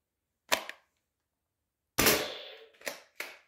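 Nerf blaster shooting Quick Dart foam darts, a sharp snap followed after a pause by three more quick pops, close and crisp with no talking.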